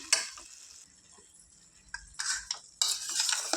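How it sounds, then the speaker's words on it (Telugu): Boiled eggs slowly stirred into a tomato curry make quiet, intermittent scraping and soft spoon strokes, with brief louder bursts of stirring near the end. "ఇంతకుముందుకు ఉడికించుకున్న ఎగ్స్ కాట్లు పెట్టుకొని ఇందులో వేసుకోవాలి ఫ్రెండ్స్ వీటిని ఇలా స్లోగా కలుపుకోవాలి"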